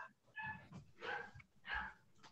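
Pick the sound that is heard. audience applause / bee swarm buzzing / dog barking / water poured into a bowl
dog barking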